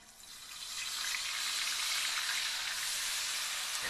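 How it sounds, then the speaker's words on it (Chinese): Dried crucian carp, brushed with a red marking coating, deep-fries in hot oil, giving a loud, steady sizzling hiss that swells in the first second and then holds evenly, close up with no talk. "短暂晾晒后，开始油炸"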